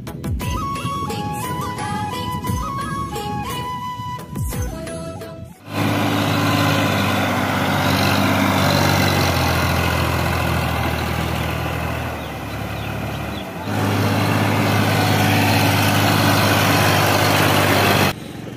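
Tractor ploughing a rice field, its engine droning loud and close with a steady low rumble that dips briefly before resuming, after an opening stretch of music.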